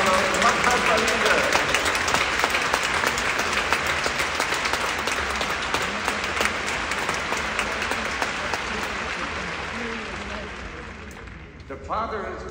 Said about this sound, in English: Give them an enormous applause.